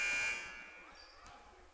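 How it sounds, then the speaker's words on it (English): A basketball scoreboard buzzer at a boys' varsity high school game, pressed by mistake: a loud, sustained electronic tone opens the clip and fades after about half a second amid gym crowd murmur. "somebody hit the buzzer by mistake"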